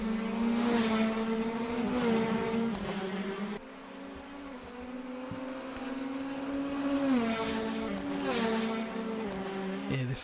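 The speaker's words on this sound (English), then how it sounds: "this 2-litre Ford Duratec engine in the Caterham 7 Championship UK spec car" A Caterham 7 race car in UK championship spec, powered by a 2-litre Ford Duratec engine with a sequential gearbox, races at Portimão. The engine note holds steady, then drops and climbs again with gear changes as the car passes, loud and continuous with no talk.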